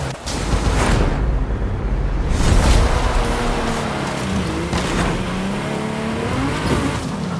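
Ferrari P4 engine in a racing video game revving loudly and continuously up close, with rising and falling engine pitch as it accelerates and shifts, plus some tire noise and road roar.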